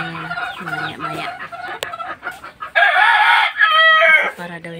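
Chickens in a backyard coop cluck loudly and close by while a rooster crows midway through, layered bird calls overlapping with no talk.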